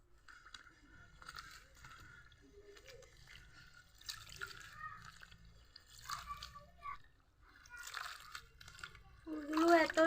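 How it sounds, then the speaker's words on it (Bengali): Water hyacinth flowers rinsed by hand in a bowl of water, with soft, faint splashes and drips in a quiet room that grow a little louder toward the end. "ফুলগুলো ভালো করে ধুয়ে নিতে হবে"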